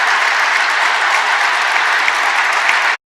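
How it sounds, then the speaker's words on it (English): A large audience claps hard in sustained, dense applause, loud and steady throughout before cutting off abruptly at the end. "Oh no, they're clapping hard."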